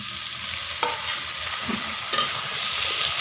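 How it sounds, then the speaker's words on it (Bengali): Pumpkin pieces and cut eggplant frying in a hot pan, a steady sizzle running throughout with a couple of sharp clinks and spatula scrapes standing out briefly. "কুমড়ার আলুটাকে একটু ভেজে নেব চার পাঁচ মিনিট আমি ভেজে নিয়ে নিয়েছি এবার আমি এর মধ্যে দিয়ে দেবো কেটে রাখা বেগুন"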